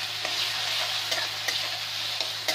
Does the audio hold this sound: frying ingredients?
yes